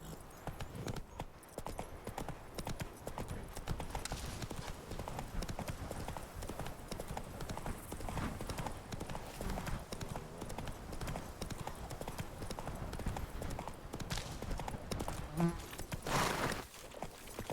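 Horse hooves clip-clopping in The Witcher 3, a steady rapid galloping rhythm running throughout at close range, with game ambience and faint insect buzz behind.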